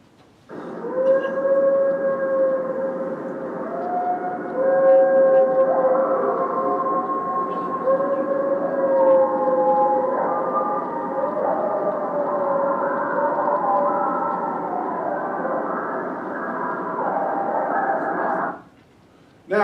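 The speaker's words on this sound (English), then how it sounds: "you'll hear what is a typical vocalization of a coyote howl" Recorded coyote howl played back in a conference hall: a long series of rising and wavering wails, overlapping yips and sustained howls lasting nearly twenty seconds, heard through loudspeakers before cutting off abruptly.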